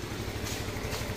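A motorcycle engine with an aftermarket Night Ranger light setup idles with a steady, fast mechanical clatter and pulsing low rumble, close and continuous.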